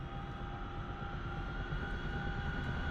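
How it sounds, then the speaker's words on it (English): Steady, loud turbine whine and low rumble of a helicopter engine spooling up in the DCS flight simulator, holding a constant drone with a slight rise in level and no talking. "roll the levers down, okay, and you'll hear the RPM increase"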